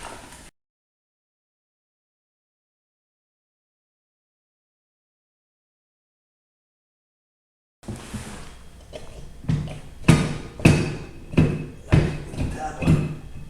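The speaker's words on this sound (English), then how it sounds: "now with the bolt on the swing arm removed, I'm going to punch the spindle here." A punch is hammered against the swing arm spindle of a Yamaha Rhino UTV after the bolt is removed. Silence gives way to a run of sharp, close metallic strikes in an uneven rhythm, about half a dozen louder blows near the end.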